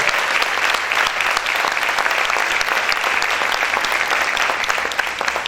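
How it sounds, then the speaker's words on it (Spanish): Loud congregation applause in a church, a thick, continuous roar of many hands clapping that holds steady throughout with no one speaking over it. "Ese aplauso es para el Señor,"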